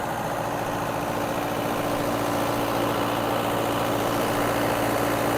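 A farm tractor engine idles close by, a steady, unbroken rumble with a low hum, alone and without voices.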